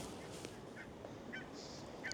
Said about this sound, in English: But there's loads of geese down